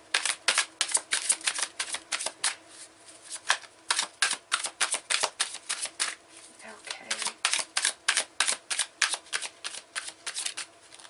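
Tarot cards shuffled by hand in rapid riffling bursts, a steady run of crisp, close flutters and snaps repeating about twice a second throughout.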